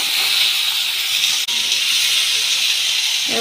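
Oil from frying fish poured into a hot pan for a Bengali raw tomato chochori, a loud, steady, close hiss of sizzling that runs unbroken apart from one brief dip.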